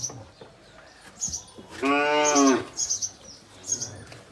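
A cow lets out one loud, drawn-out moo in a cattle shed where sick cows are on drips, surrounded by quieter shuffling and faint background sounds.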